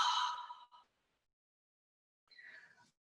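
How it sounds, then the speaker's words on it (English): A big breath out during a chair yoga class, a soft airy exhale at the start that fades out, followed after a pause by a fainter second breathy sound. "big breath out."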